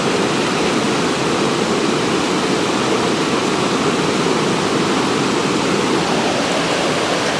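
Water rushing down a mountain stream in Uttarakhand, a loud, steady, dense roar that continues unbroken with no voices.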